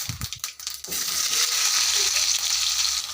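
Mustard seeds and onions hit hot oil with a few sharp pops and scrapes, then settle into a loud, steady sizzle, close up with no talking.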